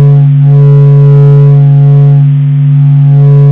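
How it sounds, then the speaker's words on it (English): A NASA sonification of the Sun's solar vibrations: a loud, steady, droning hum with layered harmonic tones that swell and fade slightly, continuous and alone for a few seconds. "Scientists turned its solar vibrations into sound,"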